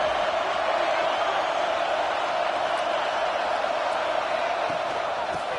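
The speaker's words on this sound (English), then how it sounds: "Here comes the noise from this big crowd in Happy Valley on 3rd down." A big stadium crowd at a college football game in Happy Valley roars on third down, a dense, loud, unbroken wall of noise holding steady throughout.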